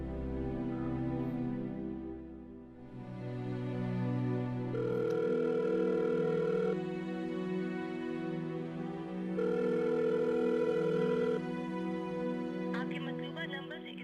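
A phone rings over and over with repeated electronic tones, unanswered and fairly faint, in a quiet room.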